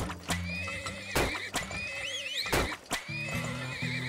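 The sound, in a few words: horse neighing in video game Turmoil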